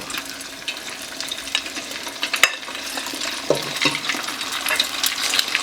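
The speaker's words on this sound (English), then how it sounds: "I will take a scoop of the spaghetti and into the oil." A scoop of spaghetti balls drops into 330-degree frying oil, giving a dense crackling sizzle with a few splashy, stirring pops, close and steady, with no talking.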